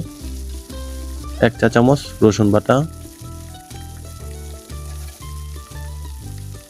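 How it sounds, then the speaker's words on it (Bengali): Garlic paste sizzles steadily in hot mustard oil, a constant frying hiss beneath soft background music, with a person speaking briefly over it. "এরপর আর একটু ভালোভাবে ভেজে নেব"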